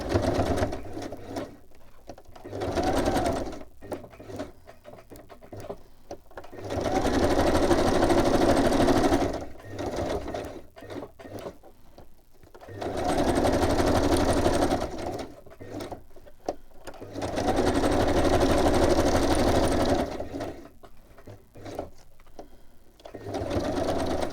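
Home sewing machine zigzag stitching, close and loud, in several sustained runs of a few seconds each separated by quiet pauses, no talk over it.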